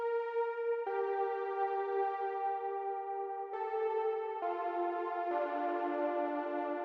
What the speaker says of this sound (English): The second plugin we're using is Serum,